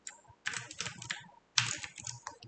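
Code being typed on a computer keyboard, key clicks arriving in two quick bursts separated by a short pause, close and fairly quiet.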